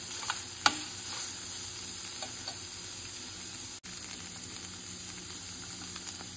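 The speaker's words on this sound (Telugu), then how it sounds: "ఇప్పుడు ఫ్రై చేస్తున్నాను." Vegetables frying in oil with chilli oil for a quick fried rice give a soft, steady sizzle and hiss, with a faint clink near the start and a brief utensil knock partway through.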